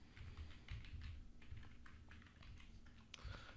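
Soft, rapid typing on a computer keyboard, an uneven run of faint clicks and key taps with no voices over it.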